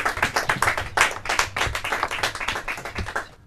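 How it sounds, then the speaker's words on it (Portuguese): Hands clap in a quick, uneven burst of applause from a classroom audience at a Portuguese-language finals competition, close and moderately loud, with a low murmur beneath and the claps thinning out toward the end. "palmas para eles"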